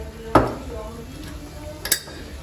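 Dry rice is stirred in a pan on a stove, with two sharp clinks of a utensil against the pan and a soft scraping stir between them.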